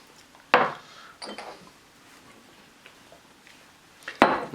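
Mayonnaise, peppers and celery being stirred together in a bowl produce a few sharp utensil clinks and scrapes against the bowl, separated by quiet pauses.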